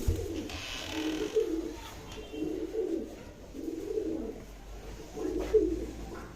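Black-red Punjabi and Saharanpuri pigeons at a pet pigeon shop coo close by in repeated low, throaty rolling phrases, about four rising-and-falling bouts over a soft background with no talk.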